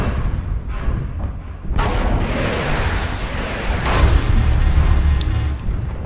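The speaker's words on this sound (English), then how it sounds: "we actually got some missiles off, and they actually hit the target too" Missile impacts in the mech combat game MechWarrior Online, a dense rolling mix of booms and blasts that swells midway and stays loud and continuous to the end, with no voices over it.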